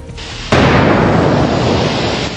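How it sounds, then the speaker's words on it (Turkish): An explosion at a factory in Tuzla erupts as a sudden loud blast after a moment of quieter noise, followed by a sustained heavy roar that barely fades. "Fabrikadaki patlama anı ve yangını ilk görüntüleyense bölgedeki diğer işçiler oldu."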